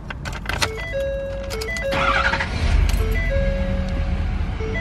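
A 2015 Ford F350 diesel pickup has its key turned, with dashboard chimes and beeps sounding, then the engine starts and settles into a low, steady idle close by.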